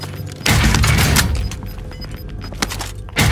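Video game gunfire in loud close bursts, heavy booming shots and rattling volleys that swell, ease off, then return with sharp cracks.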